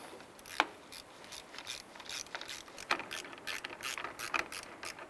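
A ratchet clicks in short repeated bursts while tightening the battery terminals on a 2002-2007 Jeep Liberty, the pawl ticking rhythmically and fairly close in an otherwise quiet setting.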